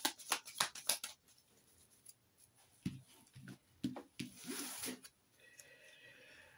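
A deck of cards is cut and handled during a card reading, giving a few quick, close papery snaps and flicks in short bursts over a quiet room.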